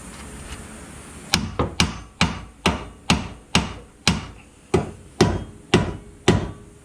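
A steel hammer striking a car suspension part on a Nissan 240SX coupe during a roll center correction kit install, about a dozen sharp, evenly spaced metallic blows up close.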